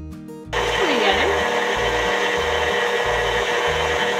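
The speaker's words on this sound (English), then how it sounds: "Blend it low speed" An electric mixer blends gluten-free cookie dough at low speed, its steady motor drone kicking in after a brief quiet start and running loud and continuous with a rhythmic pulsing as the beaters turn.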